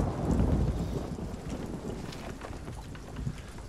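A thunderstorm with steady rain rolls through the pirate sailing game Sea of Thieves, a deep, broad rumble of thunder under a constant hiss of rainfall, fairly quiet and with no voices.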